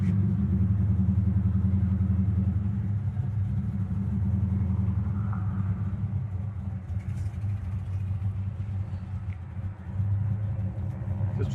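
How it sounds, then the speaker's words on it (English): A 1969 Chevelle SS V8 idles low and steady at around 500 to 600 rpm, a close, continuous deep rumble with a slight dip near the end. "it's still at like 500 or 600, and it's just sitting here idling fine"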